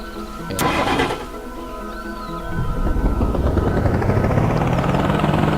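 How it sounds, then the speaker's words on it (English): A helicopter in a vehicle sandbox video game spins up with a loud, droning engine and a rotor whine that thickens and steadies, with no one talking. "It's a helicopter."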